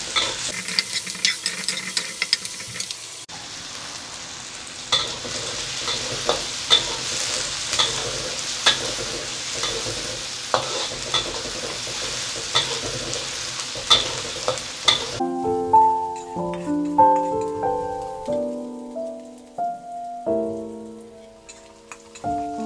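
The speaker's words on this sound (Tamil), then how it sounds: "வெங்காயம் நல்லா வதங்கட்டும்." Onions sauté in a hot pan with a continuous crackling sizzle and repeated spatula taps and scrapes for about fifteen seconds. Melodic music then takes over.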